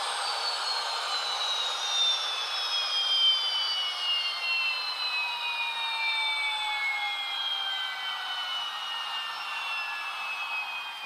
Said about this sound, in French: Donc alors je coupe turbine 2,